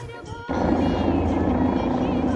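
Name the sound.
helicopter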